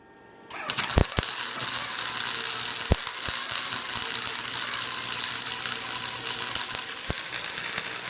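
Welding an exhaust pipe in a garage produces a steady, loud crackling buzz that starts abruptly after a short quiet moment and holds continuously, broken by a few sharp clicks, with no talking.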